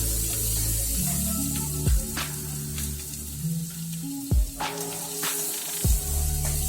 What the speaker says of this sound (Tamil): நம்ம நசுக்கி வச்சுக்கிற வெங்காயம் போட்டு நல்லா வதக்கிக்கலாம்